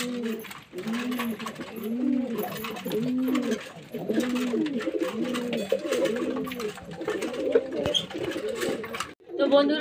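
A group of pigeons feeding in their cotes keeps up a dense, continuous cooing, several birds overlapping in looping phrases up close, with light rustling and a brief clatter near the end.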